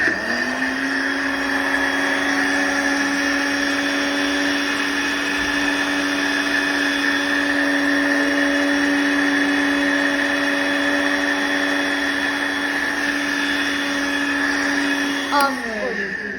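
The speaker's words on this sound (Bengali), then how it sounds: "এবার আমরা ব্লেন্ড করে নেব আরেকবার, যেহেতু চিনিটা একটু বেশি হয়নি।" An electric blender runs steadily while blending a strawberry milkshake, giving a loud, constant whirring drone that winds down near the end.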